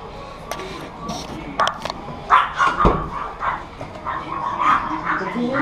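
Dogs bark and yip in short, irregular bursts at close range during outdoor work, mixed with people talking and handling gear.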